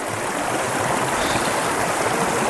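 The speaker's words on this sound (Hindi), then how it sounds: "पानी का साउंड देखें कितना प्यारा है" A mountain stream in Kashmir's Neelum Valley rushes steadily close by, a dense, continuous broadband wash of flowing water with no voices.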